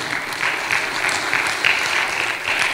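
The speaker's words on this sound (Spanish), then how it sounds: "Fuerte el aplauso, mi amado hermano" A church congregation claps loudly and steadily during a sermon, dense applause rising and falling in waves without any voices.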